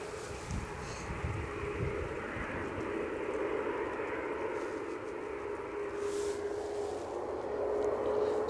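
A Ryanair airliner inbound from Dublin roars steadily at Edinburgh Airport, its continuous engine rumble mixed with buffeting wind across the microphone, with no voices.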